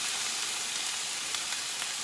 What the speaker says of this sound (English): Hopefully you guys can hear me over the sizzle.